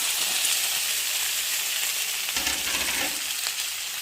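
Potatoes dropped into hot oil, a steady loud close sizzle and crackle with a brief stirring clatter partway through, no voices.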